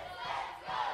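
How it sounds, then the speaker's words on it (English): Wrestling crowd at an APW 2015 IPW Championship match roaring and cheering continuously, a dense sustained mass of voices that swells twice within a second. "Crowd's behind him again."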